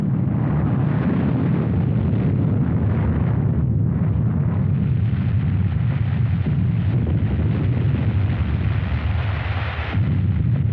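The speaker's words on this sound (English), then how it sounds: "a SAC B-29 dropped a nuclear bomb on the Bikini Islands" A nuclear bomb dropped by a B-29 bomber explodes over Bikini in 1946, a loud continuous deep rumbling roar with heavy low-end wind-like buffeting that holds steady for about ten seconds before easing slightly at the end.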